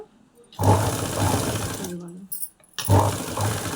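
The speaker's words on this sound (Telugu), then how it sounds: "సరిగా స్లోగా స్టిచ్ చేయండి రౌండ్ అనేది చక్కగా తిరుగుతుంది" A sewing machine stitches blouse lining in two loud, close runs of whirring, with a brief pause and a voice speaking between them.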